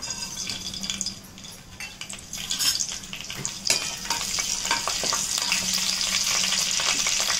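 Whole spices dropped into hot oil in a pan sizzle and crackle loudly, with scattered pops and the scrape of stirring, building to a steady fry close by with no talking.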